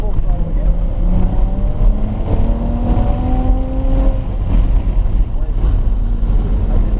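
A car at full throttle on a race track, heard from inside: a loud, steady engine drone with rising tones as it accelerates, continuous throughout.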